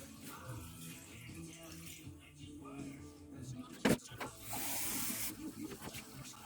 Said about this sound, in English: 1 litre of water into a saucepan.